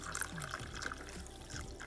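Hot soy milk pours steadily into a chai spice yerba mate latte, a continuous close splashing trickle of liquid filling a cup with no talking.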